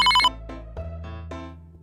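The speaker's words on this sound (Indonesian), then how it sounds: "Permisi, aku mau angkat telepon dulu." A telephone rings in an animated drama: about four short electronic ringtone bursts repeat at a steady pace, close and clear, with no talk over them.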